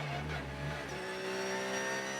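The number 92 Porsche race car pulls out of pit lane during an endurance race, its engine whining in clear tones that shift pitch midway as it accelerates away.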